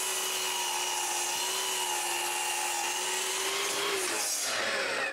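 Power saw cutting the bottom angle of a replacement wood support for a patio, one steady loud whine with a constant tone that drops near the end as the cut finishes, then stops abruptly.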